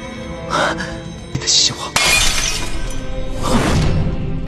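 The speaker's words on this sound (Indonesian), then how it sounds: "tiba-tiba harta itu pecah" Magical treasure shattering in an animated fantasy series, a loud crisp glassy burst that breaks apart in several crashing bursts and scattering fragments over a few seconds, with no talk.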